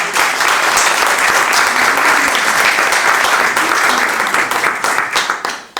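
An audience at a 2019 schools history project presentation applauds the winners with loud, dense clapping that holds steady and then thins and fades out toward the end.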